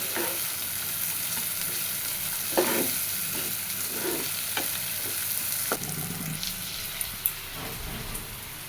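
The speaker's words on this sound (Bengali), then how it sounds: "ভালো করে ভাজা করে নিব।" Chopped onions fry in a pan with a steady, close hiss, and occasional scraping stirs and soft knocks break through the sizzle. No voices are heard.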